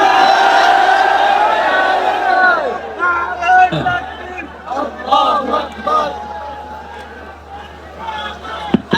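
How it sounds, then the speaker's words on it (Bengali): A large gathering stands and shouts a slogan in unison, loud rhythmic chanted bursts that rise and fall, with a leader's voice cueing between them. "পারলে একটু দাঁড়াইয়ে একটা স্লোগান দেন সবাই দাঁড়ায়"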